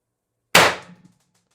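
IntruBuster G2 CO2 air rifle, charged from a 90g CO2 cylinder, fires a single sharp, loud crack that decays quickly, alone with no talk.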